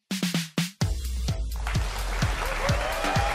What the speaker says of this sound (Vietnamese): chúng ta sẽ cho một tràng pháo tay thật lớn để chào đón hai bạn nam của chương trình.